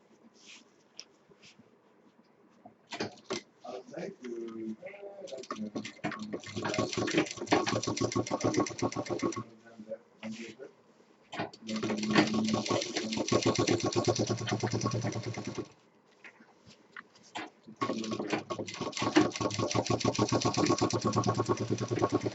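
A sewing machine stitches a handbag in several bursts of fast, even whirring and clatter. Brief pauses separate the runs, and a voice speaks softly during the quiet gaps.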